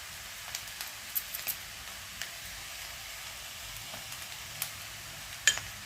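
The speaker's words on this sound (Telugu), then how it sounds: "వేసి ఇలా మొత్తాన్ని ముక్కలన్నిటికీ మసాలాలు పట్టేటట్టు ఇలా ఒకసారి ఫ్రై చేసుకున్నాను" Chicken pieces coated in coriander powder, cumin powder and garam masala fry in a pan for Andhra-style spicy chicken fry, a soft steady sizzle with scattered small pops and crackles.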